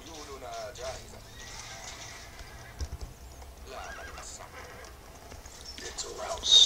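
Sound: horses neighing in a video game, Stronghold Crusader

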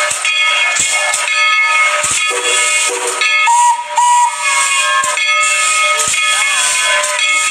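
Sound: toy train steam whistle

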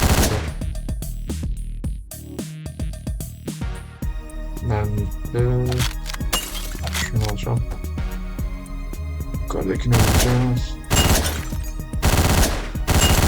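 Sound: gunfire in the video game Hotline Miami

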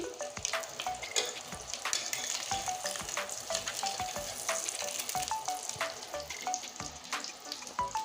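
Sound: egg being fried in oil

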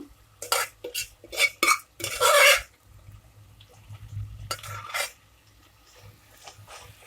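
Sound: mixing boiled peas and potatoes in a pot

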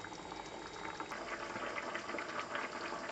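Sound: rabbit ragù broth simmering, reducing in a pot

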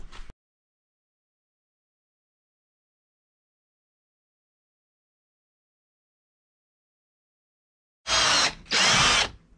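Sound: power drill drilling

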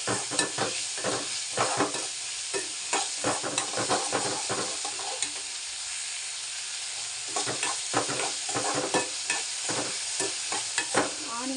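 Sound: onions and tomatoes sautéing in a pan

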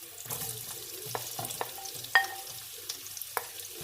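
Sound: stir-frying rice with shallots and carrots

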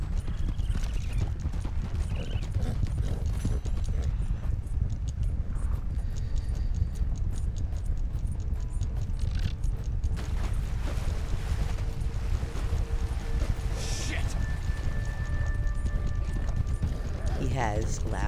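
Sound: horse hooves clip-clopping in a video game

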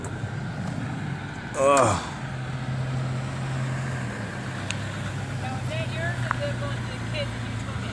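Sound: RC short course truck driven at full throttle

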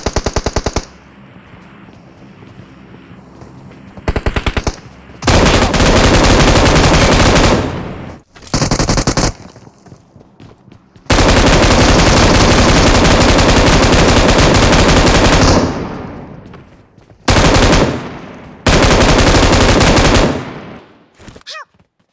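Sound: M249 machine gun firing in video game

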